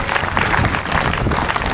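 Audience at a comedic poetry gathering breaks into steady, dense clapping, a continuous burst of many hands close by that fills the short moment without pause.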